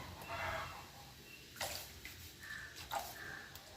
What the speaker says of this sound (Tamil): அதுக்கு பால் ஒரு 300 கிராம் சேர்த்துக்கலாம்